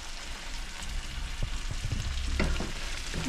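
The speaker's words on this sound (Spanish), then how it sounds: "vamos a dejarlo que empiece a hervir para que agarre el sabor de la cebolla" Onion and chipotle sizzling and frying in a pan, with a steady crackle and a few stirring scrapes and clinks near the end, close and fairly quiet.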